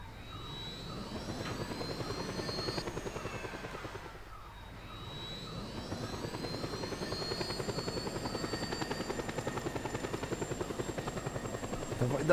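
A powerful helicopter strains to lift a car into the air, a loud steady rotor thump and turbine whine close by, briefly dipping then building again as it climbs.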